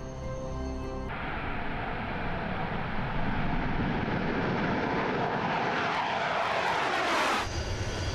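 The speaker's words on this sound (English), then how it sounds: "These Su-25 fighter jets, NATO codenamed Frogfoot at the Russian Aviation Center in Lipetsk, are identical to those used by the Ukrainian Air Force." A Su-25 Frogfoot jet at the Russian Aviation Center in Lipetsk roars loudly and close, its broad engine noise sweeping in pitch as it passes, with no talk.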